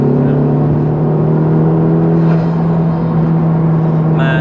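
Honda Civic Type-R FK2 engine pulling hard under acceleration, a loud, steady intake drone with strong low harmonics that holds for the whole stretch, heard from inside the car with no talking.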